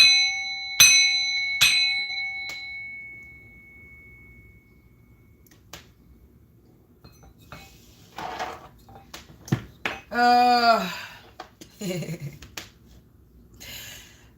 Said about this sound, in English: I'm going to bang this bell